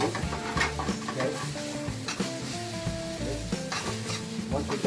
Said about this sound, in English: Mix it up a little bit with the spaghetti